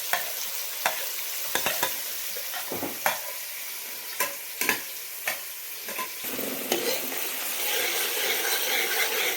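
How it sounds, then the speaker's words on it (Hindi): Onions frying in hot cooking oil for a chicken karahi, with a steady sizzle underneath and several sharp stirring scrapes at irregular intervals. The sizzle swells louder toward the end. "प्याज को भून लेंगे।"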